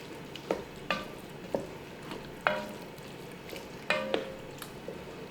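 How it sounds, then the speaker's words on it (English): A spoon stirs a vegan roasted tomato soup with white beans in a pot, giving five or six short wet scraping and squelching strokes close up, with a faint sizzle underneath and no talking. "let me give this a quick stir"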